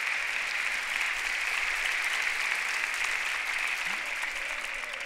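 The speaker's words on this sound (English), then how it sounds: "This way you say amen and you applaud." Steady applause from a church congregation at a pastor's 15th anniversary service, sustained and even for the whole stretch, a dense wash of clapping with no voices standing out.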